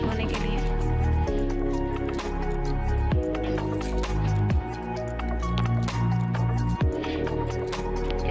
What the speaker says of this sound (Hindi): बर्तन धो रही है